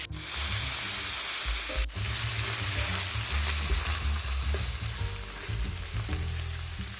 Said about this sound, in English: we're going to continue to cook it until it's all the way brown